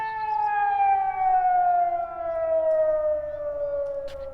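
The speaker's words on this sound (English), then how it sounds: "A siren was going off in his head." A long wailing siren tone with layered harmonics slowly falls in pitch, loud and steady, sounding alone.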